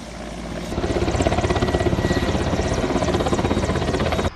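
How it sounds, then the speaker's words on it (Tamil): Indian Air Force helicopters patrol near the Chinese border in Uttarakhand, their rotors beating in a loud, steady, rapid chop that swells in after a quieter start and holds throughout. "உத்தரகாண்டில் சீன எல்லை அருகே இந்திய விமானப்படை விமானங்களும் ஹெலிகாப்டர்களும் ரோந்து பணியில்"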